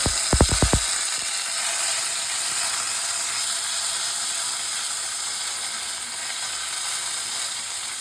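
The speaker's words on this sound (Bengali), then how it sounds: "এবার নিম পাতাটা এই তেলের সঙ্গে ভেজে নেব।" Neem leaves frying in hot oil with cumin and panch phoron, a steady hissing sizzle running throughout after a few brief clicks at the start.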